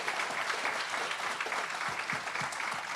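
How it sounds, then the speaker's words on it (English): Audience at a memorial medical lectureship applauding a presenter, a dense steady round of clapping from a large crowd that holds evenly at moderate level throughout. "Let's give her a round of applause."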